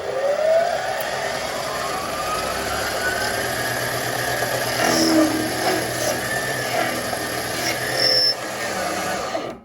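A compact, quiet mini metal lathe runs at higher RPM while trying to cut steel, producing a steady motor whine with rising and falling tonal sweeps and faint squeals, continuous and fairly close.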